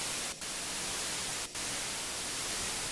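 Steady white noise plays from an ambient sound app, a dense, even hiss with two very brief dropouts, alone and without any talking.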